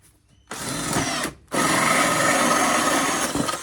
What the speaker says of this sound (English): I'm just going to use this just to drill a hole in the top